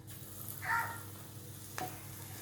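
Chilli fritters (mirchi bhaji) frying in hot oil give a soft, steady sizzle with a brief brighter crackle near the start and a short pop toward the end, with no voices.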